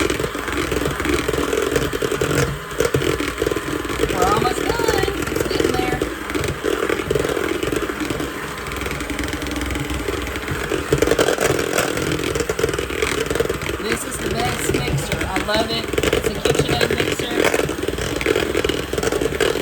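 A KitchenAid hand mixer whirs and rattles continuously while whipping banana pudding topping, a loud steady motor drone with scraping clatter against the bowl throughout.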